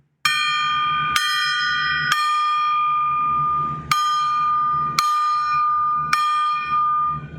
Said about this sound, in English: we're going to strike this gong 6 times